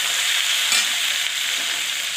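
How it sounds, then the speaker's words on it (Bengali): Eggplant and potato pieces frying in a pan, a close, steady hiss of sizzling oil with faint stirring underneath, brief and even. "সুন্দর করে আমি সবজিটা ভেজে নিয়েছি, বেগুনটা"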